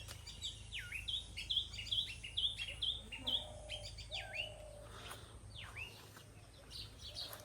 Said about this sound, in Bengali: পাখি